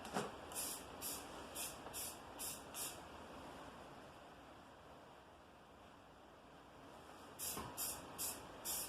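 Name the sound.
spray painting with a rattle can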